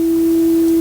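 A pure sine wave tone synthesized in Haskell with the Vivid library, one steady, loud, unwavering pitch held without change for under a second, with no voices.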